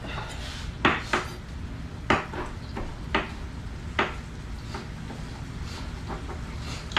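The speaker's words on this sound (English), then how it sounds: "Let me cut some basil up." A kitchen knife chops basil on a cutting board while a chicken dish is cooked, several sharp, separate knocks at an uneven pace over low steady background noise, close by and with no talking.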